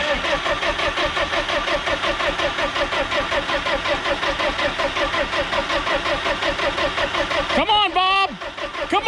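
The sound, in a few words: Ford F350 Power Stroke diesel engine cranking, trying to start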